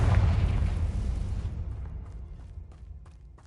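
A Confringo fire-blast spell from Hogwarts Legacy erupts in a heavy, deep boom with a broad roaring burst that fades over a couple of seconds, leaving faint scattered crackles behind.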